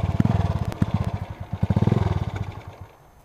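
Honda CG motorcycle engine idling close by with slight misfires, a rapid uneven run of thumping pulses with audible gaps and stumbles, clattering a little before the beat fades out near the end.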